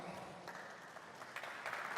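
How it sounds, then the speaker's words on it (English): Conference audience applauding as a speaker is called to the stage at VOICE Summit 2018, a fairly quiet, even patter of clapping across the hall with no talk on top. "I'd like you to give up a huge round of applause for Mr. Duane Forrester"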